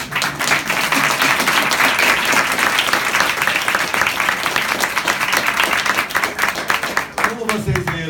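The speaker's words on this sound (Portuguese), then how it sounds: "Uma salva de palmas para você." A crowd at a talk delivers a loud, steady round of applause with dense overlapping claps throughout, easing slightly near the end as a voice begins to come through.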